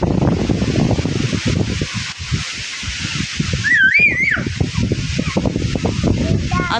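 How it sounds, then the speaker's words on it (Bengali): Strong storm wind gusts roar and buffet the microphone continuously, loud and close, with a brief high whistling tone partway through. "প্রচুর বাতাস, এত বাতাস মনে হয় উড়াই নিয়ে চলে যাবে আমাদেরকে সবাই।"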